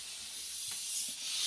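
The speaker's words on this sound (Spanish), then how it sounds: "echarle un poco de aire con nuestro compresor al tubo en la parte de arriba" Compressed air from a compressor blown into the top of a refrigerator's blocked drain tube, a short steady hiss close by, rising slightly with a brief dip near the end.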